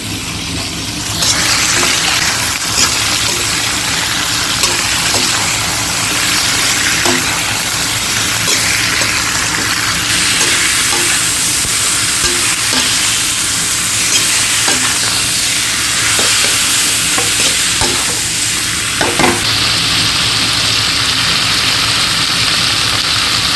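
Chicken meat frying in a pan with a steady loud sizzle throughout, broken by occasional clinks and scrapes as it is stirred, alongside a low engine-like hum, with no talking.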